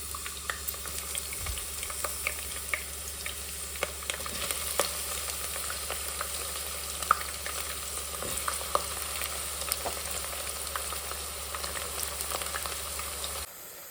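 Sliced onions frying in hot oil for biryani beresta, a steady crackling sizzle that holds evenly at close range throughout, with no voices.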